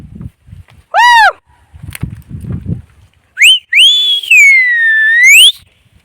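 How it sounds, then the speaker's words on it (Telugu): A shepherd in hilly country whistles loudly and close by to call stray sheep back: a short rising whistle, then a longer warbling whistle, with faint shuffling and murmurs in the gaps. "అట్లా విజిల్ వేస్తుంటాం"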